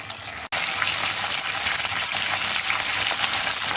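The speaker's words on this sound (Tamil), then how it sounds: "பச்சை மிளகாய் ஆட் பண்ணி வதக்கிடுங்க." Steady, loud hiss of green chilies sautéing in hot oil in a pan, broadband and continuous after a brief gap near the start, with no voices.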